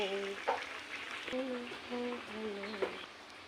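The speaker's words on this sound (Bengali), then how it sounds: "আর এদিকে তেল দিয়ে ভাজছি" Food frying in oil at home, a soft continuous sizzle at low level with a few spoon clatters, and a voice talking faintly over it.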